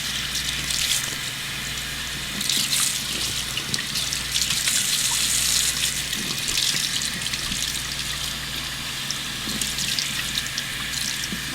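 Tap water runs steadily into a sink while a wig is rinsed, a continuous close splashing hiss with small shifts in intensity as the hair is moved under the stream.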